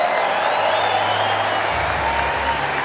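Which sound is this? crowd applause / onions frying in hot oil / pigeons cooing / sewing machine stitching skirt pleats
crowd applause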